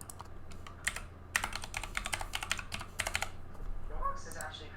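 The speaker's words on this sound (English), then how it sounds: "now we would type in our credentials" Login credentials are typed on a computer keyboard as clicky keystrokes in quick bursts with brief pauses. A soft voice murmurs in the background and a short higher sound comes near the end.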